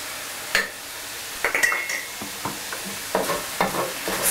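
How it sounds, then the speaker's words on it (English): Chili bean sauce and crushed pepper stirred and fried in oil in a pan: a soft, steady sizzle broken by several sharp spatula scrapes and clinks against the pan, close up. "Stir it until the oil looks red."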